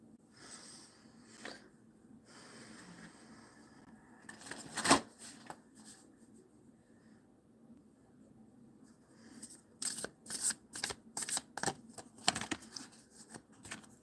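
Oracle cards are shuffled in quick riffling bursts: one sharp flurry early on, then a tight run of crisp shuffles near the end, fairly close and faint, with no talking over them.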